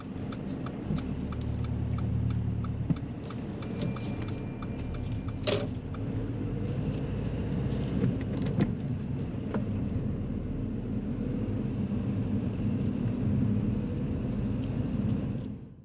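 Continuous low rumble of a car driving along a road, steady throughout, with a few faint clicks and brief higher-pitched rattles on top and no voices.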